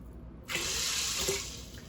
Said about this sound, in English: I'm gonna add, I guess this is 6 cups of water.